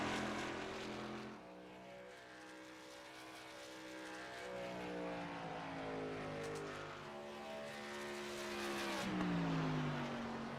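Race truck engines roar around Darlington Raceway in the iRacing game, a loud sustained drone of several motors whose pitch sweeps up and down together as the trucks power off the corner and down the straight.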